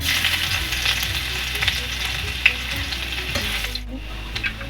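Garlic sizzles and crackles steadily in hot oil in a pan for a Bengali dish of stuffed pointed gourd with katla fish, a continuous close fry with a brief dip near the end.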